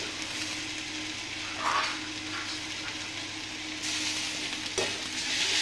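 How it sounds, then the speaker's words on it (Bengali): Cumin paste sizzling in hot oil in a pan while a Bengali home dish cooks, a steady close frying hiss with a few brief louder spurts and no talking. "এরপর দিব একটু জিরে বাটা"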